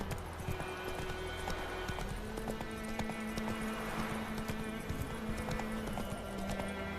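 Roach the horse galloping in The Witcher 3, rapid rhythmic hoofbeats sounding continuously over a droning in-game music and ambience bed, steady and close.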